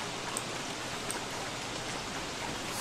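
Steady rain hissing down in the Don't Starve game world, a dense even patter with faint droplet ticks throughout and no voices.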